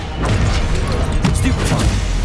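Expelliarmus spell cast in Hogwarts Legacy, a dense, booming magical burst with crashing impacts and rumbling effects, loud and close, mixed with a shouted voice.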